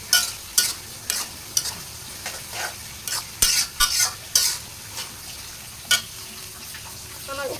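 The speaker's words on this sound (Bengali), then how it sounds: "একটু নাড়াচাড়া করবো" A homemade hair oil mixture of oil and chopped ingredients is stirred in a pan, with irregular sharp scrapes and clinks of the spoon over a constant low sizzle, close and fairly loud, no voices.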